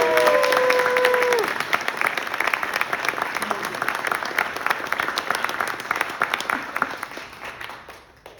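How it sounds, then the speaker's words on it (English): An audience claps warmly at a city ceremony at the Thomas Center in Gainesville, Florida, the dense applause starting loud and slowly tapering off, with a brief voice at the very start. "And clap."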